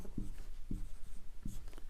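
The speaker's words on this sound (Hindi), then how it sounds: "अब यहाँ पर आगे हम लोग लिखेंगे" Chalk or marker strokes on a board during a Class 10 maths lesson: three short, distinct scratchy writing strokes spaced about half a second apart, close and clear, with no talk over them.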